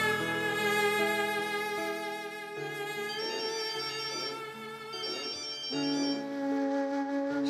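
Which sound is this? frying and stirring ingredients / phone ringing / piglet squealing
phone ringing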